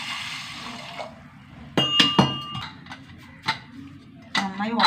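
Water pours into a cooking pot already holding salt and turmeric, a short splashing hiss followed by scattered metallic clinks, with a person talking.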